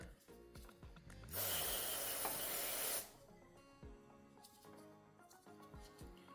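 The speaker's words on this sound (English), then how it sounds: "you're just gonna spray it on there and just saturate it" A single sustained hiss of aerosol cleaner sprayed onto an air intake temperature sensor of a Ford Expedition 3.5L lasts about two seconds, between quieter clicks and handling sounds.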